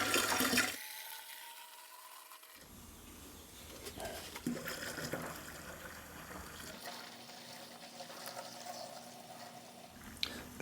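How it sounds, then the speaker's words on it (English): Tap water runs into a container while a bleach cleaning solution is being mixed. It starts with a faint splash, followed by a low, steady gush that fills the background and continues quietly under scattered small knocks. "Then we just fill the rest up with water."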